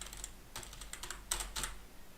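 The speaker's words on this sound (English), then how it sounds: "people in my office where I used to work absolutely hated that I always had the loudest keyboards" Loud computer keyboard typing heard close up, a few uneven bursts of sharp key clicks over a low hum, no talking.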